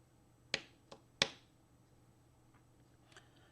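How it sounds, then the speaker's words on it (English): A few sharp knocks of a hand tapping on a tabletop, three distinct taps early on and a fainter pair near the end, close and fairly quiet against a low steady hum. "Here I'm gonna tap on my table and you will see the LED light."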